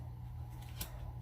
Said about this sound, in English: Now I'm going to also cut some acetate and some vellum